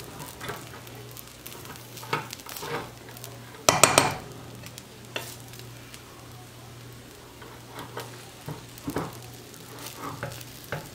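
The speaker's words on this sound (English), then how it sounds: "break it apart and give it a good, you know, mix. That way it's kind of like you're fluffing out your rice" A spoon scrapes and clanks through Puerto Rican rice with pigeon peas in a pot, with soft stirring rustles, a faint sizzle and one sharp metallic clatter near the start, close by.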